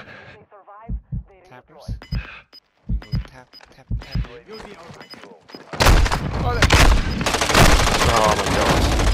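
Heavy automatic gunfire from the video game Warzone 2.0 erupts in a dense, loud, continuous burst partway through, after stretches of excited talk and scattered lighter sounds.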